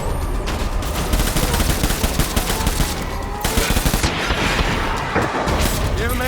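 Gunfire in the Death Stranding video game, sustained automatic fire and dense volleys with repeated sharp reports, some heavier booms, and voices mixed in with the shooting.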